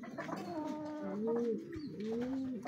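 Breeder racing pigeons cooing nearby in a loft, a few drawn-out rolling coos one after another, clear and alone with no voices.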